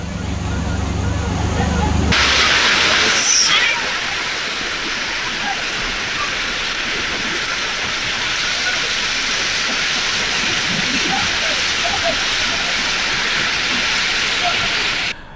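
Floodwater rushes through overflowing streams during heavy monsoon rain, a loud, continuous roar that stays steady throughout, with a brief burst of extra noise near the start.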